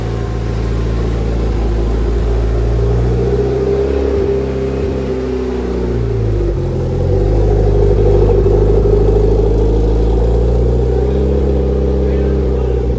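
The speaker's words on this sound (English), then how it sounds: "Here we are, first drive on the new built motor." A freshly rebuilt car engine runs on its first drive, a loud steady in-cabin drone with rising and falling revs as the car accelerates, with a voice talking over it.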